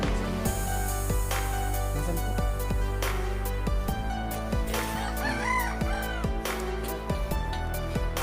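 A rooster crows in a rural village setting, loud and near, its call rising over dense, steady background of clucking fowl and other birds, with repeated sharp calls throughout.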